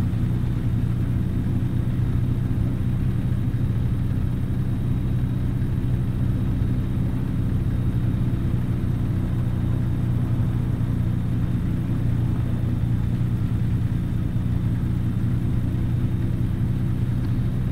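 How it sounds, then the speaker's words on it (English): A truck engine in American Truck Simulator, recently upgraded, drones along at a steady, even rumble for the whole stretch, with no voices over it. "since I upgraded the engine though, it seems to be purring along a lot easier than it was before"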